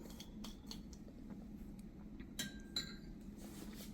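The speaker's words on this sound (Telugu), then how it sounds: "దీంట్లో ఒక 2 స్పూన్స్ నెయ్యి వేసుకొని ఇలా కొద్దిగా కలుపుకొని" Sabudana (tapioca pearls) mixed with ghee in a bowl for halwa, heard as light clinks and scrapes of a spoon against the dish over a steady low background hum, with a few sharper taps near the end.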